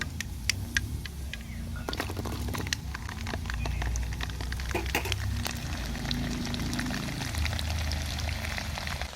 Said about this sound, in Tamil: கடுகு நல்லா பொரியணும்